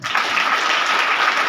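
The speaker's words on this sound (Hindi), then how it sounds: "अपने लिए तालियां बजाओ।" Children applauding themselves in a room, a dense, steady burst of clapping that fills the short moment at close range with no talk over it.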